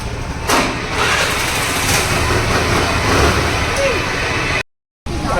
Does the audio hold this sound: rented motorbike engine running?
yes